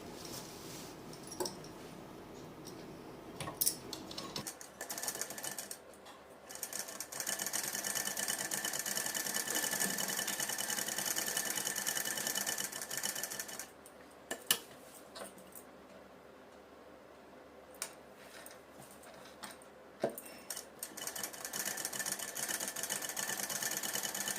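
A sewing machine runs fairly quietly and steadily, stitching lining onto suit fabric, with a few brief pauses and light ticks along the way.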